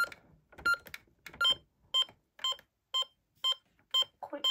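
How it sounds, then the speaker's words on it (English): Optima alarm system keypad being set, giving a steady series of sharp, close electronic beeps at roughly half-second intervals, about ten in a row. "Right, let's set the alarm."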